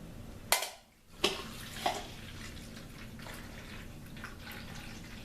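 A drip coffee maker runs a rinse cycle with fresh water: a few sharp clunks and splashes open the stretch, then quiet trickling and bubbling water continue faintly.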